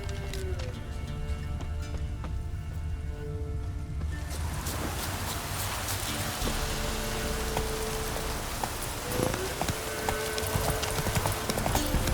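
Horse hooves clip-clop steadily in The Witcher 3, a continuous rhythmic trot that carries through the whole stretch over a hissing, rain-like background wash, loud and close.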